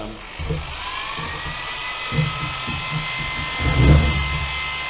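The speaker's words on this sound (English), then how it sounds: "The heat gun has got a nozzle temperature of about 300 degrees centigrade, so keep your fingers away from the nozzle." Heat gun with a nozzle near 300 °C blowing hot air on a tabletop, a steady close whirring hiss under low, indistinct talk.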